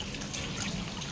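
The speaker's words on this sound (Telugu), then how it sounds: "మందపాటి గిన్నె తీసుకుని లీటర్ పాలు, చిక్కని పాలు పోసుకొని మరిగించుకోండి" Thick milk poured into a heavy pot makes a brief, continuous liquid rush and trickle, close and fairly even throughout.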